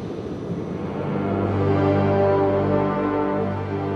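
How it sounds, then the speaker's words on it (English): An aircraft landing, heard as a steady low engine roar with a broad rushing hiss that swells slightly and holds through the short stretch, with no talk. "we are now going to be involved with the landing of the"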